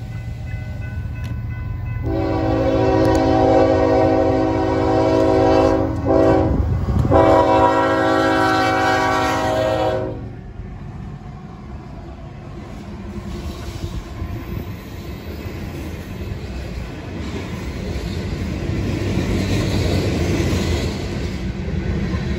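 A loud, close train horn blasts a long multi-tone chord for about eight seconds as a Pacific Union train passes in Roanoke, followed by the steady rumble and clatter of rail cars rolling by.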